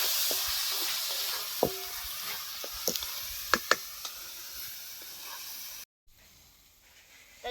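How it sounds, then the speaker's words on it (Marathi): Onions sautéing in a pan for tomato chutney cooked over a village wood-fired stove: a steady, soft sizzle and hiss with a few sharp clicks of stirring, then a brief drop to near silence before the sound returns. "आता कांदा ते छान परतलाय सगळं मिक्स झालंय"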